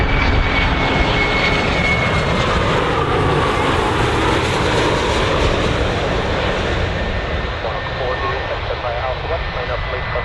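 A jet aircraft landing at Birmingham Airport on runway 15 makes a loud, steady engine roar that holds for about ten seconds, easing slightly near the end, with radio chatter heard over it.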